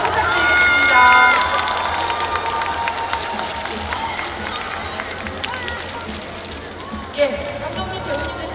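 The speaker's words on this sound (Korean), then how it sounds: "모두 뜨거운 박수 부탁드리겠습니다" A crowd at an open-air talk event for the film at the Busan International Film Festival cheers and applauds as actors are welcomed, with shouts rising over the clapping before it fades under a voice.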